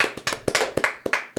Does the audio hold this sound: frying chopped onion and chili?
no